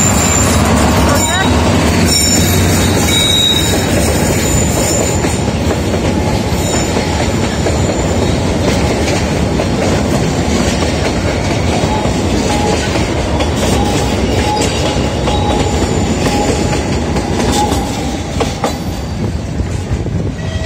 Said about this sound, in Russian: Сейчас поезд едет, едет.